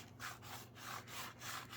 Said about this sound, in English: we're just going to rub this guy lightly on the sanding sponge